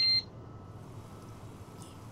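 A short, loud, high-pitched electronic beep sounds at the very start, then cuts off into a faint background hiss.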